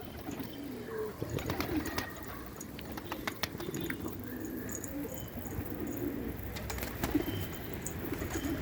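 Pigeons coo repeatedly in a backyard loft on a sunny evening, soft throaty calls recurring under a steady outdoor background with occasional wing flutters and light rustling nearby.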